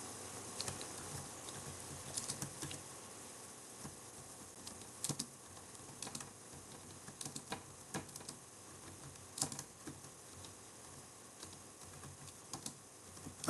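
Slow, uneven typing on a computer keyboard, soft clicks arriving in short bursts with pauses between them, quiet and close with a faint steady room hiss underneath.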